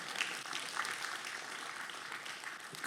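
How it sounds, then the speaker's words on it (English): A school event audience claps for a gentleman in a short, moderately loud burst of dense, even applause that ends on a sharp rise. "Round of applause for this gentleman here."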